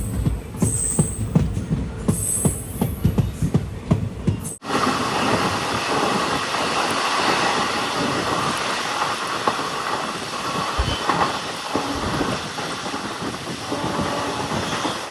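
A passenger train runs from Tirunelveli to Kanniyakumari in Tamil Nadu, wheels clattering rhythmically on the rails with a steady rumble that shifts abruptly to a smoother, hissing roar partway through, loud and continuous with no talk.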